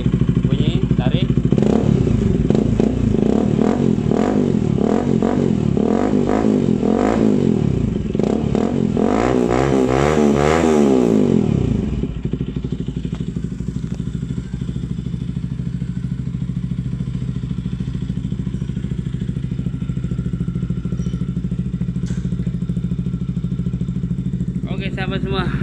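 Bajaj Pulsar RS200 motorcycle fitted with a Yoshimura R11 exhaust, loud and close, with a deep throbbing note that swells through repeated revs and then settles into a steady idle for the rest of the clip.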